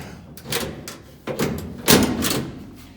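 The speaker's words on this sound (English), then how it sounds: "Let me open the door." Door of a classic Ford Mustang being opened in a body shop after aftermarket fender fitting, a few close, sharp latch and hinge clicks and thumps spaced apart over quiet background.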